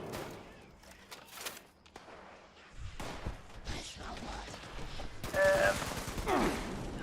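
Bursts of gunfire in the post-apocalyptic video game Fallout 76, sharp shots and volleys mixed with game noise and a voice talking over them, growing denser and louder toward the end.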